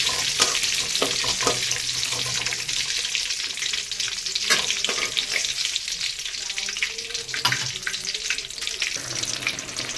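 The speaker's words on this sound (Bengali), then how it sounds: "হালকা করে ভেজে নেব।" Whole brinjals lightly frying in hot oil, a dense continuous sizzle and crackle filling the space close by, with faint watery spatters and occasional bursts of stronger hiss, no voices.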